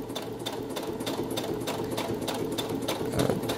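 A sewing machine stitches the curved edge of a small fabric card holder, running steadily at close range with a quick forward-and-back finishing stitch, alone without talk.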